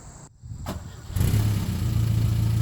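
A car engine cranks briefly, catches and starts, then settles into a steady, fairly loud idle that holds evenly to the end.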